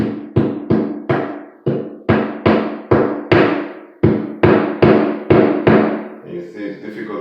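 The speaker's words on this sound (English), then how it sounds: "try to put it and hammer it" A hammer drives a plastic wall anchor into a drilled hole in a bathroom vanity, about fifteen close, sharp, evenly paced knocks, each with a short ringing decay, followed by quieter shuffling.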